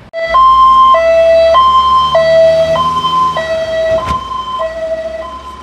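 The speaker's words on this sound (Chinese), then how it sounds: "救护车疾驶而过" An ambulance siren wails loud and close in a steady two-tone hi-lo pattern, alternating evenly about every half second as it speeds past the scene of a late-night motorcycle and car crash in Taitung, with traffic noise underneath.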